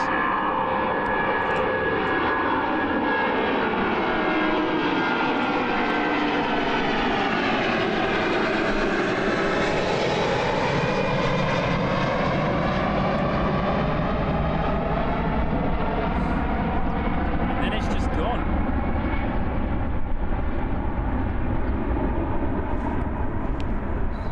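A Fiji Airways Airbus A330 jet takes off in fog, its loud, continuous engine roar swelling and sweeping in pitch as it passes, then holding a steady broadband rumble for the full stretch with no talk.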